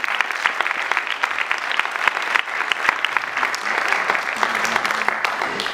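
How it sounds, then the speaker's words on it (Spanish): Sustained audience applause at a cultural event, the Copa Cultural Nelson Mandela 2014, with dense, steady clapping from a crowd filling the space continuously. "el aplauso es para vosotras y vosotros"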